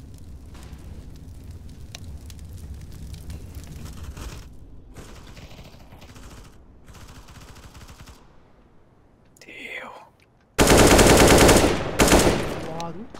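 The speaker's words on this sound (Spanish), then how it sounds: "I'm throwing a flashbang." A flashbang grenade going off in Counter-Strike: Global Offensive on the Dust 2 map, a sudden loud burst of bright ringing noise near the end, preceded by clattering gunfire and faint movement in the background.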